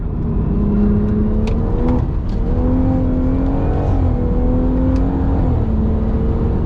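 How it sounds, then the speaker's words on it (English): A car driving at speed on a track, its engine droning loud and close with shifting pitch as it accelerates and lifts, a constant roar of road and tyre noise underneath. "these tyres are a bit quieter than the first tyre"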